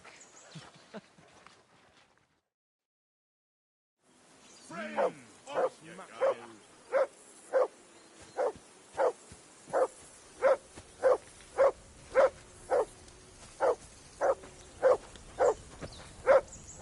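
A dog barks in a steady, regular series of about twenty loud, close barks at a riverbank campsite, following a few seconds of speech and a brief silence.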